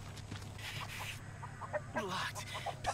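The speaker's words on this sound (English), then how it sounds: "Oh, chickens!" Chickens clucking in the Texas Chain Saw video game, scattered short clucks and squawks over a low game hum, with a voice speaking in the background.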